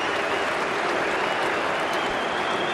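Spectators at an Ashes Test cheer and applaud Steve Smith reaching fifty, a dense, steady wash of clapping from a large crowd that holds at even loudness with no break.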